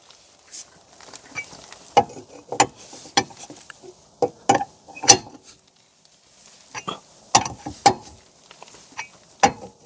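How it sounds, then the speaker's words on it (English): A wrench tightens the wheel bolts on a single-axle trailer, giving bursts of sharp metallic ratcheting clicks in uneven clusters, close by, with no talking. "let's tighten the bolts to their final tightness or to the desired torque"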